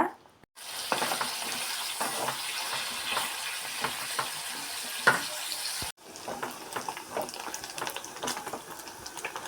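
Pork for chilli pork cooking in a pot gives a steady sizzle and bubbling with occasional stirring clicks, broken by a brief near-silent gap at the start and a sharp cut near the middle.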